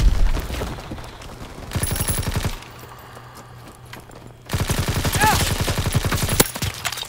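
Rapid bursts of automatic gunfire in a first-person shooter game, loud and dense in two stretches separated by a quieter lull.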